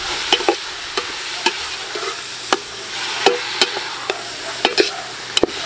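Beef innards sautéing in a pan, with a steady sizzle of frying broken by repeated sharp clicks and scrapes of a utensil stirring against the metal, close and fairly loud, with no voices.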